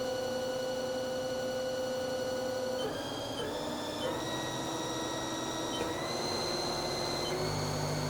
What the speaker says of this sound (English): Spindle's running right now at 200.